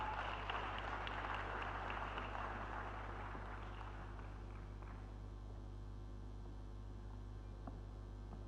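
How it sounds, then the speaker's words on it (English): Audience applause in a hall at the closing plenary of a conference in Accra, a broad wash of clapping that swells at first and then thins out over a steady low electrical hum. "Please give them a round of applause as they come up stage."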